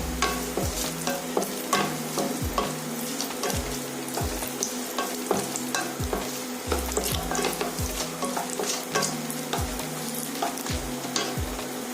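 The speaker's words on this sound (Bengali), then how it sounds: "কিশমিশ আর কাজুটা ভালোভাবে ভাজা হয়ে গেছে" Steady frying sizzle of raisins and cashews in hot oil with repeated scraping and stirring strokes from a spoon against the pan, close up, with no talking.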